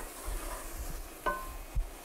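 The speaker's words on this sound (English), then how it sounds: "these are kind of like sizzling a little bit." Onions cooking in a nonstick pan without oil while releasing their water give a faint, steady sizzle, broken by a couple of soft stirring scrapes and taps.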